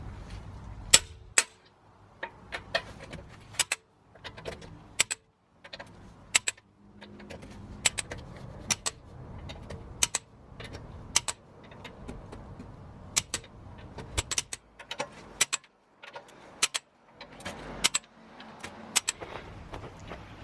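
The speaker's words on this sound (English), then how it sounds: "if you ever are torquing up your wheels" A torque wrench tightens the bolts on a car's alloy wheel, producing many sharp, close ratchet clicks in irregular bursts and a few louder snaps over about twenty seconds, with no voices.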